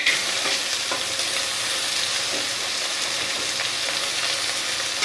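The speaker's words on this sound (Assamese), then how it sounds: "এতিয়া কাটি থোৱা পিঁয়াজখিনি দি দিম গোটেইখিনি" Chopped onions hit melted sugar in a pan for a local chicken and ash gourd dish, setting off a steady, loud sizzle with occasional stirring scrapes and no talk.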